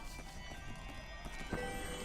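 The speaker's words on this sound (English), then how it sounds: "Oh, get this horse off of me!" Horse hooves clip-clop at a gallop with a neigh in the video game Child of Light, rhythmic thuds at moderate loudness with a sharper burst near the end.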